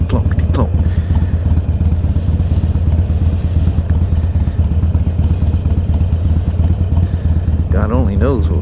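An Iron 883 motorcycle rumbles steadily over rough ground, a loud continuous low engine drone with rattling clatter throughout, and a voice briefly heard near the end.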